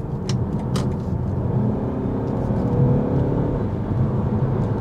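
A BMW X1 23d diesel with a 7-speed dual-clutch gearbox accelerates to overtake, its engine and road noise swelling steadily from inside the cabin, with a couple of brief clicks near the start.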